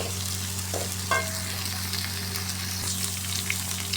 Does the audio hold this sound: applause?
no